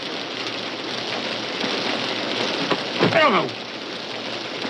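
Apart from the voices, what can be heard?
rain falling on the roof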